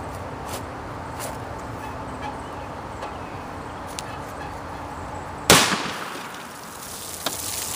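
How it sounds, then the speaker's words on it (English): A single sharp shotgun blast from a 00 buck wax slug fired at water jugs cracks out loud and close after a quiet outdoor stretch, its echo decaying over the next second. "Here goes the double-aught buck wax slug in our nice zombie color motif."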